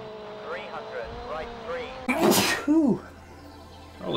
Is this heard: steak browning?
no